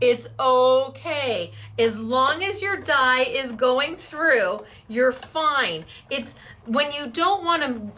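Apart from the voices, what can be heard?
No distinct noise like a dog, phone or traffic.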